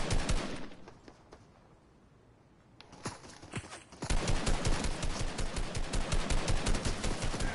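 Long-range automatic gunfire in Fortnite, rapid bursts of shots that fade to a quiet lull, then a loud, sustained rattling stream of rapid-fire shots for the last few seconds.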